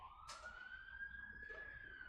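A fire engine siren wails steadily outside, heard faint and distant through the walls as a long, slowly rising tone, with no talk.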